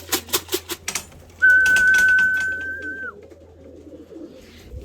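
Racing pigeons drop into the loft trap with a quick series of wing-flutter clicks, followed by a clear, sustained whistle held for nearly two seconds, then quiet outdoor background.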